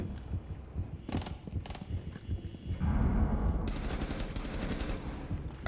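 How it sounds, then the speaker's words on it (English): Gunfire in a shooter video game: a couple of isolated shots early on, then a long rapid automatic burst of evenly spaced cracks that runs to the end. "I thought I headshot him the first time, so I just stopped shooting."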